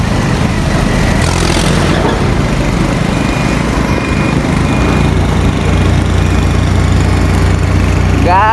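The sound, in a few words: tractor engine running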